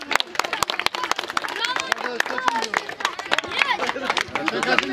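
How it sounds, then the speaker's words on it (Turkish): A crowd at a mosque Quran course football tournament trophy ceremony claps in a dense, uneven patter of many hands, with chatter and voices mixed through it. "Alkışlıyoruz çocuklar."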